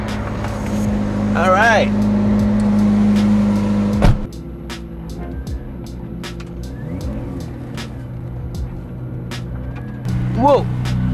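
The exposed satin carbon fiber McLaren P1 sits in race mode, its engine holding a steady, loud droning tone that then drops to a lower, rougher rumble, with a brief spoken voice near the end.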